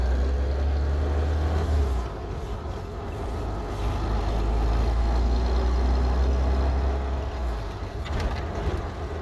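A 1948 Plymouth Super Deluxe, a former fire chief's car, cruises along at steady speed, its low engine and road rumble loud and continuous from inside the cabin, with no talking.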